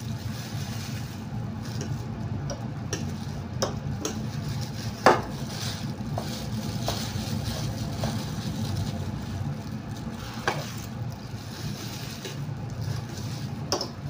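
Fish nugget mixture is stirred in a bowl, soft scraping and occasional clinks of utensil against dish repeating at an irregular pace, close and fairly quiet over a low background hum.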